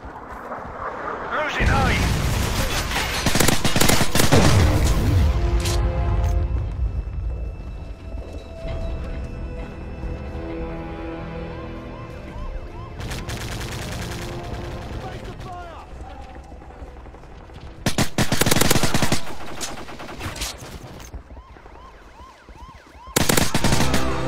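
Combat in a Call of Duty game: a Predator missile strike lands with a heavy explosive burst early on, followed by sustained rattling gunfire, game music and further loud blasts near the end, with in-game voices talking throughout.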